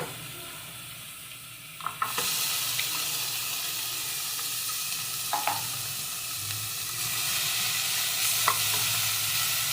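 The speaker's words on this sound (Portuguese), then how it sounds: "Então, deu aqui uma fritadinha, vou juntar a cebola." Onion frying in a pan as the filling base for a yam pudding with tuna, a steady sizzle that swells after the first couple of seconds, broken by a few light utensil clinks and stirring scrapes.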